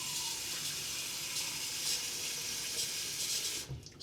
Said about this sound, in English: Put just a little bit of water. I gotta fill up a bowl.